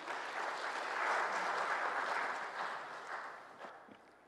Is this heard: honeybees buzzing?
no